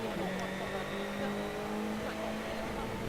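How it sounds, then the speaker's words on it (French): A rally car engine on a stage of the Rallye d'Allemagne, heard from inside the car as a steady, droning hum with a sustained tonal whine and road rumble, while a commentator talks over it. "On entend beaucoup les moteurs"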